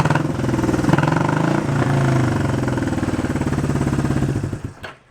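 A 1971 Honda CB350 barn-find motorcycle engine fires up and runs with a loud, lumpy, pulsing beat at close range, rising briefly before settling into an uneven rhythm and then cutting out near the end.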